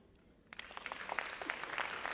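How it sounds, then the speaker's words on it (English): An audience bursts into applause for the First Lady of Turkey at a conference in Freetown, Sierra Leone; clapping starts suddenly after a quiet moment and continues as a dense, moderately distant wash. "a round of applause for the First Lady of Turkey"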